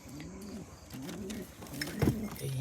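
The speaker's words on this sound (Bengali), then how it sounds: "কবুতরের খোপের সামনে আসলাম" Pigeons cooing at their coop in the evening, soft low repeated coos from a few birds nearby with faint chirps and rustling.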